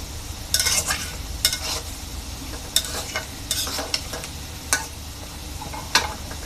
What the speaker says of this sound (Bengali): আমার মাছটা কষানো হচ্ছে, একটু নেড়ে দেবো আবার ভালো করে কষানোর জন্য।